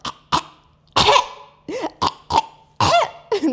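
A woman imitates a dog's kennel cough with a series of short, harsh, hacking coughs and throat-clearing bursts, close and loud, in irregular clusters.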